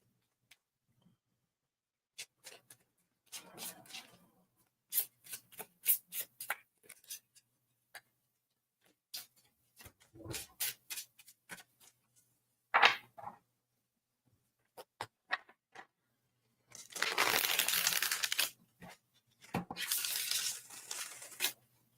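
Playing cards being shuffled at a table, heard as bursts of crisp riffling and snapping in irregular runs with pauses between them and one longer, louder ruffle near the end, all fairly close with no talking.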